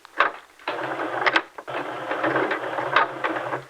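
A sewing machine stitching a seam on a T-shirt dress, loud close bursts of rapid mechanical whirring broken by short pauses, with no talking.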